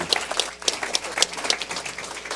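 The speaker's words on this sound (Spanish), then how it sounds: "Lo despedimos con un voto de aplauso" Seminar audience applauding a departing speaker at a metallurgy session, steady close clapping from a modest group with no talk over it.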